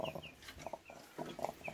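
A sick chicken clucks softly in short, repeated bursts at a moderate distance, with faint higher chirps from other birds in the background.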